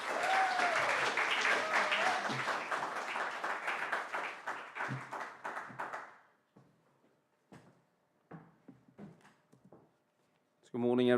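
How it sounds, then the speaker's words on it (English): A church congregation at a Sunday service applauds warmly to welcome the preacher: dense, full-room clapping for about six seconds that thins out and gives way to someone speaking. "let's welcome him up with a warm round of applause"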